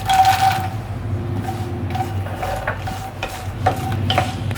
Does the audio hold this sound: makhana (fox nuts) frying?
yes